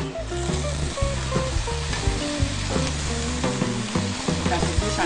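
Chicken satay sizzles and crackles loudly over a grill after basting with sweet soy sauce, a dense continuous frying hiss up close, with music playing underneath.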